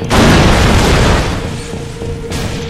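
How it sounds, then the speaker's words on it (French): A grenade explodes in the first-person shooter Far Cry Blood Dragon, a loud, deep boom that hits at once and rolls off into a rumbling tail, with a smaller burst near the end. "Est-ce qu'à votre avis, ils vont me repérer si je balance les grenades comme ça?"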